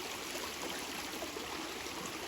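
Creek water flows steadily and softly in a wooded setting, a continuous even rush and trickle with no talk, fairly faint and uniform throughout.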